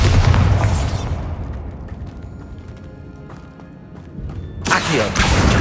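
Bombarda blasting spell in Hogwarts Legacy set in a tomb, a loud booming explosion at the start that rumbles and decays into a quieter echoing tail, followed by another burst at the end.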